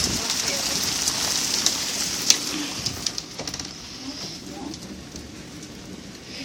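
Hail falling outdoors, a steady hiss of pelting ice with scattered sharp ticks and impacts, moderately loud and continuous.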